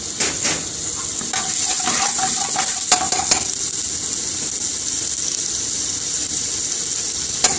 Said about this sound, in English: Chef Imran's putting some vegetable oil there. I'm going to chip the onions in